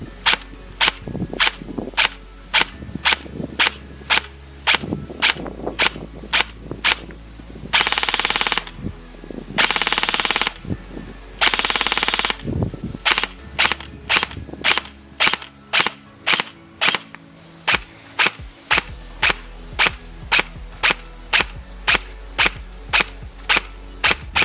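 A G&G Armament GK-12 airsoft electric gun, an AK-12 replica, fires loud, sharp shots up close, with rapid-fire bursts and steady single shots spread over nearly half a minute, and no talk.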